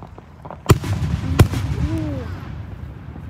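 Fourth of July fireworks go off with two sharp, loud bangs less than a second apart over a low crowd-like rumble, followed by faint rising and falling whistling tones.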